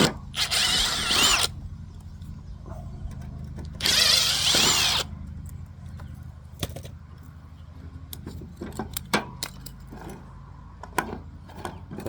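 Two short, harsh buzzing crackles from a welder tack-welding a homemade metal clothesline bracket, close by, separated by quieter clinks and light metallic handling.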